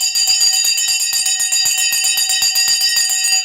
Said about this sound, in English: The bell has gone and the market is open.